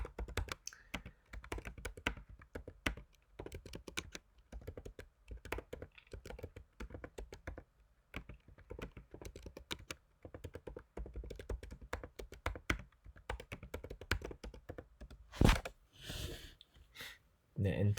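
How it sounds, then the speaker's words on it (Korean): Quiet clicking of keys on a computer keyboard in irregular bursts, close by, with occasional louder taps. "서열 정렬 코드를 먼저 타이핑을 하신 후에 엔터를 눌러주시면 되겠습니다"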